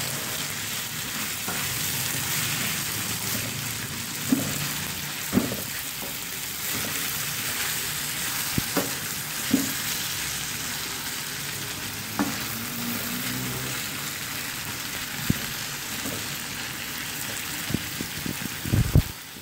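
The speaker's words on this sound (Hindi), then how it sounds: "तो हम 5 मिनट फ्राई करेंगे ताकि प्याज थोड़ा," Onions and tomatoes frying in a pan, a continuous crackling sizzle throughout with scattered utensil taps and scrapes, close and steady, without talk.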